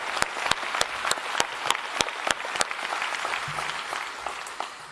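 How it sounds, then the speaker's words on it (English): Applause from the audience at a book awards ceremony in New Zealand, a steady wash of clapping with some sharp individual claps standing out, moderately distant and fading slightly at the end. "Let's have another round of applause, please."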